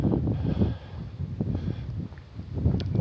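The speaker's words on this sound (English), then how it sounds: "It's kind of windy." Gusty wind at the water's edge in Haines, Alaska, rumbling low and buffeting the microphone in uneven surges for a few seconds, with no one talking.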